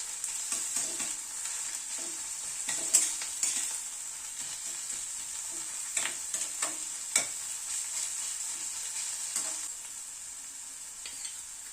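Sliced onions sizzle in a pan with garlic paste for an egg curry, a steady hiss of frying broken by scraping clicks and knocks of stirring, close and fairly quiet with no one talking.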